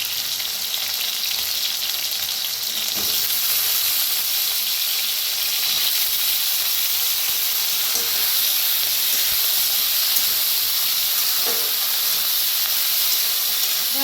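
Potatoes and brinjal roast in a hot pan with salt, giving a steady, even sizzling hiss that carries on without a break, with no voices.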